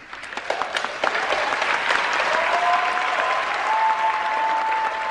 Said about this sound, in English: there are very few people applauding